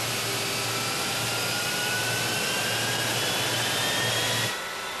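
Jet engines of a B-1B Lancer bomber spooling up at startup, a loud, steady roar with a rising high whine that holds throughout, then drops off abruptly near the end, with no talking.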